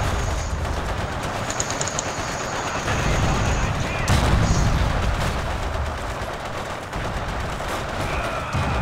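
Sniper rifle gunfire in the World War II game Forgotten Hope 2, set at Tobruk near a church tower, with sharp cracks and distant battle noise over a steady background and occasional voices.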